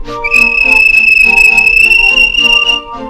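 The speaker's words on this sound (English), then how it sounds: "The guard blew his whistle," A railway guard's whistle sounds one long, piercing, steady note for nearly three seconds, loud and close over a soft musical background.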